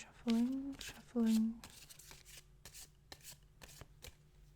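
After a brief spoken voice, a deck of cards is shuffled, with crisp riffling bursts and taps in quick succession.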